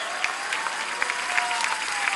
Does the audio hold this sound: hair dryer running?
no